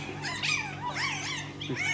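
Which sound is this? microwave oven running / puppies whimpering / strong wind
puppies whimpering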